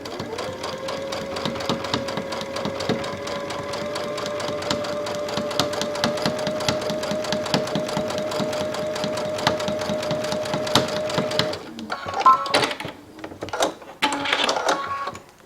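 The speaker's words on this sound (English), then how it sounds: "So I'm going to do my seam all the way down, doing it 1/8 of an inch wide." Sewing machine stitching a seam in fabric, a fast rapid-fire mechanical clatter with a steady motor whine running for about twelve seconds, then stopping into a few brief handling noises.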